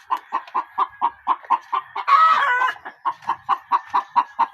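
Chickens on a poultry farm give a steady, rhythmic run of close clucks, with a brief louder squawk partway through.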